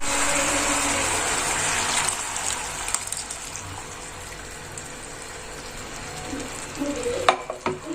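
Masala with jaggery is stirred in a pan for a ripe mango curry, giving a steady close scraping and bubbling sizzle throughout, with a few sharper clatters near the end and no talking.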